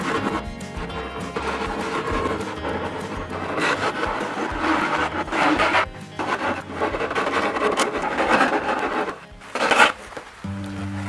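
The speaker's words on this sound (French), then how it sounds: "J'utilise une râpe pour mettre cette nouvelle pièce à fleur du premier morceau de contreplaqué." Wooden parts of a homemade lapidary sander being worked by hand, a rasp filing a new plywood piece flush with the first: steady, scraping, woody rasping strokes, close and fairly loud, with short pauses between bursts and no talking.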